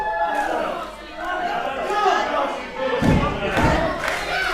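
Wrestling arena crowd roaring and chattering in support of a fighter, a steady wash of cheering with heavy thuds from the ring around the midpoint, commentary talking over it throughout.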